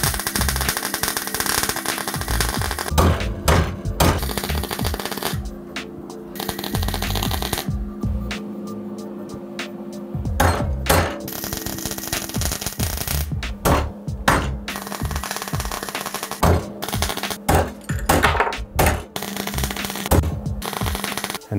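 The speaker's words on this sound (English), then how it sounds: "Time to weld the outside to it." Welding steel hoops for a giant naval cannon build, a steady loud crackling buzz with sputtering bursts and brief pauses, close up and continuous with no talking.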